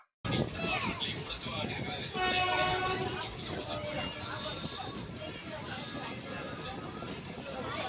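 A passenger train on the Tiruchirappalli to Erode line runs steadily, with a loud continuous rumble and rattle heard from inside the carriage, while people talk throughout.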